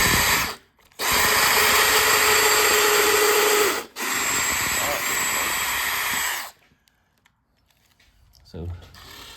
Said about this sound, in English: So I'm gonna drill this out close to the edge of the board.